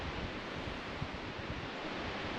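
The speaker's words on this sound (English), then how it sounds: "You can hear water going down there too." Water rushes downhill somewhere in a thick forest, a faint, steady broadband hiss with no distinct splashes, heard alone and unchanging over a few seconds.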